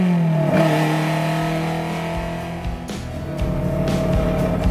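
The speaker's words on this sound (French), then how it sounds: "Ah, ce moteur Gordini, c'est une vraie symphonie," Car with a Gordini engine accelerating on the coastal road of the Esterel, a loud close engine note holding steady tones and rising through the gears.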